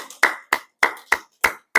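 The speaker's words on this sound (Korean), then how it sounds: "우리 장영순 장로님께 여러분들 감사의 박수를 한번 하시길 부탁드립니다." A church congregation at a Wednesday worship service claps in thanks, six sharp, loud claps in an even unison rhythm, each separated by brief silence.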